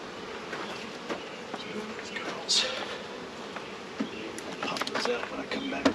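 Honeybees buzz steadily at an open beehive during an inspection, a dense close hum with individual bees zipping past the microphone, while a person speaks briefly over it.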